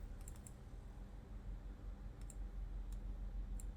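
Computer mouse clicks while saving an image during Unity work, a few quick faint clicks scattered over a steady low background hum.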